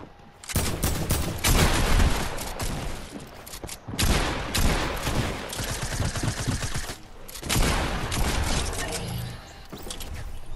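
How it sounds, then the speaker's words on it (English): Rapid SMG gunfire in Fortnite, loud sustained bursts of automatic shots in several long volleys separated by short gaps, with mechanical clatter between. "How are you just gonna spam your SMG and expect to win?"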